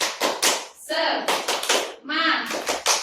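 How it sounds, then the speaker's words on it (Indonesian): Children in a primary-school classroom clap a quick rhythmic group pattern, sharp bursts of claps broken by short chanted voices in between, close and lively. "1, 2, 3. Tepuk semangat."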